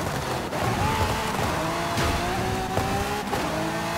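Car tires squeal through a street race in Forza Horizon 5, steady engine roar underneath with sustained tonal screeching and brief skid bursts, continuous and loud throughout.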